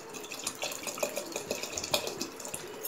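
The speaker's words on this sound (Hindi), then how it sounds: "बस अब हमें इसमें डालना है पानी" Water is poured into salted rice in a pot for cooking a simple biryani, making irregular splashing and dripping sounds close by without speech.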